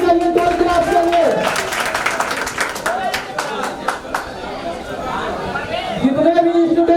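Audience clapping and cheering at a school results day and prize distribution ceremony, a broad wash of applause and crowd chatter throughout, with a voice talking over it near the start and end.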